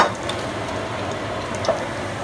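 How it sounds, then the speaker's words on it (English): New Year's cakes frying in about an inch and a half of hot oil give off a steady, dense sizzle with faint crackles and pops, close and continuous throughout. "The frying has begun."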